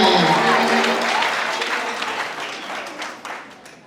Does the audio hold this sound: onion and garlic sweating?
no